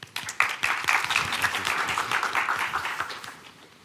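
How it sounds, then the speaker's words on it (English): A pitch-competition audience claps in a sustained, dense round of applause that fades slightly toward the end, with no voices over it. "Let's give them a round of applause."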